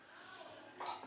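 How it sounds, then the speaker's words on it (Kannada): A cooking pan is set down on a stove while tempering is prepared for a potato, brinjal and ridge gourd saaru; one short metallic clank near the end follows soft kitchen background. "ಪ್ಯಾನ್ ಇಡ್ತಿದ್ದಾರೆ"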